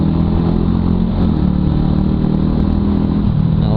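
A Honda Wave 110R motorcycle engine runs steadily and loudly throughout, a continuous close, even drone with no voices.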